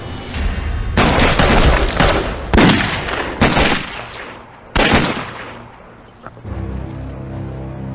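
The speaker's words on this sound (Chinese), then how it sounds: "山区听到枪声，出发！" Gunfire in a mountain area: several heavy, booming bursts of shots ring out one after another, loud and echoing, then fade into a low rumbling hum.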